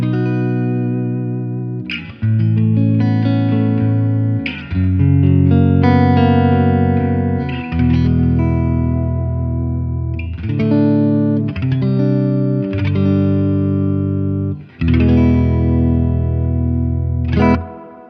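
Electric guitar played through a Fender Tone Master Twin Reverb amplifier with reverb on 3 and the bright switch off, clean ringing chords and single notes in phrases with brief pauses, close and loud with a light reverb tail.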